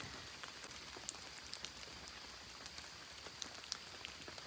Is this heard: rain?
yes